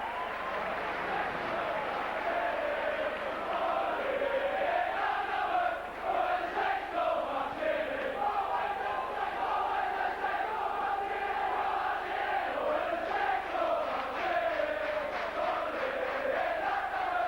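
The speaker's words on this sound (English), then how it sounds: "as you can hear the Saints crowd getting behind the team tonight" A rugby league crowd of St Helens Saints fans cheers and chants at a 1991 home match against Castleford, a steady, dense roar from a large terrace that carries on without a break.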